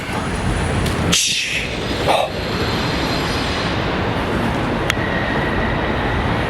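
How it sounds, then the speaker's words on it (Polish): Loud, continuous rumbling rail noise of a train going by nearby, with broad roaring texture and a couple of sharper clanks. "Ja wiem, że słychać pociągi i cywilizację"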